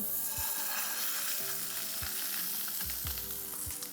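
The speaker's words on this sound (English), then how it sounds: "That now is the temperature I want it to be, so my salmon can go in." Salmon fries in a hot pan with a steady, close, loud sizzle and crackle, punctuated by a few low thumps and scrapes as it settles, with no talking over it.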